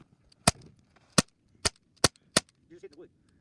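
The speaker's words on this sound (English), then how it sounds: "And then we shot it with a BB gun." A BB gun fires repeatedly at a Rubik's cube, producing six sharp, loud cracks at uneven intervals of roughly half a second, with faint clatter and soft impact sounds between shots.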